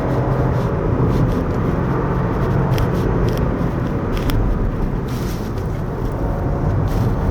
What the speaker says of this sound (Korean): 저는 근데 이 엔진에서는 음색이 제일 마음에 듭니다.